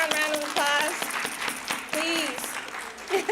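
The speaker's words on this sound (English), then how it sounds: "let's give them a big round of applause" Audience applause for award recipients at a vendor appreciation awards presentation, a sustained wash of clapping under voices speaking and thanking.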